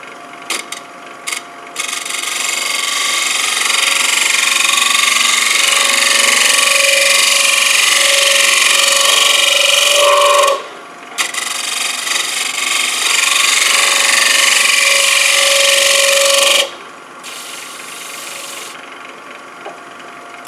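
A scraper tool shaves a spinning wooden bowl on a woodturning lathe, giving a loud, steady rasping scrape in two long passes with a short pause between, then a quieter tail.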